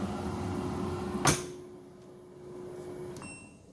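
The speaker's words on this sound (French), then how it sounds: "Si vous ouvrez la porte, on mettra en DE" An LG heat pump clothes dryer door opens with one sharp click-clunk partway through, over a steady low appliance hum, followed by a quieter settling tone.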